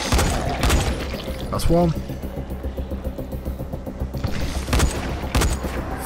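Gunfire from a firearm in the PC game Dying Light, set in the sewers: several sharp broadband shots at the start and near the end, loud over a busy game soundscape with someone talking throughout.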